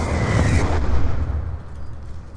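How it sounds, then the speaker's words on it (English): A Hellstorm missile strike booms in a Call of Duty Black Ops 2 multiplayer match on PC, a heavy rumbling explosion that swells in the first second and then decays into a low, fading roar. "Friendly Hellstorm missile inbound"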